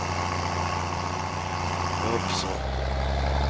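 A tractor engine in Farming Simulator 19 hums steadily with a low, even drone, and the pitch drops slightly partway through. A voice talks over it.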